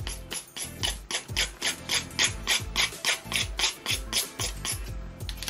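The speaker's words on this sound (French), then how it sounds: "J'ai besoin de limer encore plus." A nail file rasps across a fingernail during a rose quartz nail art job, a steady run of quick, close, even back-and-forth strokes that stops briefly near the end.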